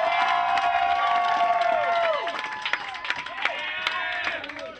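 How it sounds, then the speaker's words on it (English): An audience at a hypnotist show cheers and whoops loudly with scattered shouts and clapping, the roar slowly tapering toward the end. "Make some noise for them."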